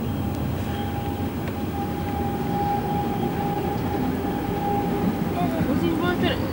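A train hauled by ČSD steam locomotive 475.1142 near Otrokovice rolls along with a steady low rumble and a faint sustained whine, and muffled voices are mixed in.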